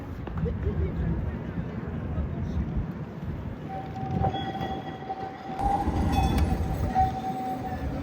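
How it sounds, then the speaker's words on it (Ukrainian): An old tram in Bremen rumbles past, with steady rolling noise, a sustained squeal of wheels on rails, and faint voices in the background. "Такі трамвайчики старенькі."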